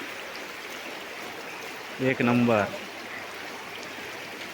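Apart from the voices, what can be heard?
flowing river stream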